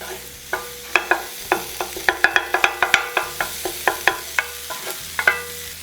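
Cut chicken being stirred into frying masala for tawa pulao on a flat pan, a spatula striking and scraping the metal in quick, irregular clinks over a light sizzle, close and clear, with no talking.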